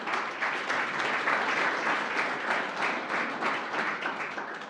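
A crowd at a startup showcase gives the panelists a sustained round of applause: dense, even clapping that holds steady for several seconds before starting to fade.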